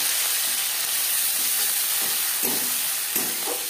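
Two onions dropped into hot oil left from frying katla fish, giving a steady, loud broadband sizzle and hiss throughout with a few brief crackling bursts and no talking.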